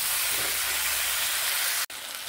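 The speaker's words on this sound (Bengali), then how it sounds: "নেড়ে আমি এটাকে ঢেকে ঢেকে ভেজে নেব শিমগুলোকে।" Flat beans frying under a lid in a pan give a steady, dense sizzle and hiss close up, broken by a brief drop near the end.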